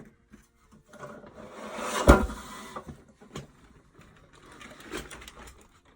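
A 1950s Umco tackle box is pried open, with a loud scraping creak and clunk of the lid near the middle, then softer rattles and knocks of contents, close up and without speech.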